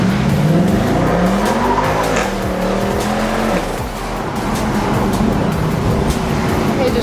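Mercedes C63 with its V8 engine roaring loudly and steadily through the gears, revving up and down continuously at close range, with no talk over it.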